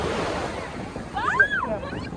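Sea surf washes in and draws back along the shore, a broad rushing wash with wind buffeting the microphone and a faint voice-like tone in the middle.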